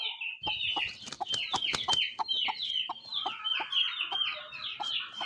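Aseel rooster vocalising with repeated loud, close clucking and crowing-like calls in a busy, continuous run of bursts, with no talk over it.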